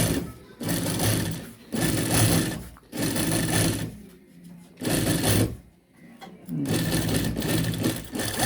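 A sewing machine runs in four or five loud bursts of stitching along a men's shirt collar band, with brief quiet pauses between runs.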